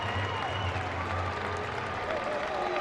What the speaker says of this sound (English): They're giving Rigdon a nice round of applause as he comes on.